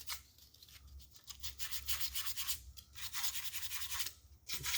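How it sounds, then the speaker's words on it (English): Fine sandpaper rubs in quick back-and-forth strokes across an engine block prep surface, a close, steady scratchy hiss with brief pauses between passes and no talking. "A little sandpaper, and this is real fine. I'm just gonna make sure there's nothing hanging up."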